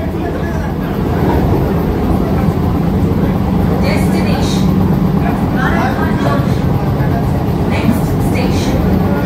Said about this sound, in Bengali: এখন কিন্তু স্পিড একদম টপ স্পিডের কাছাকাছি স্পিডেই চলছে।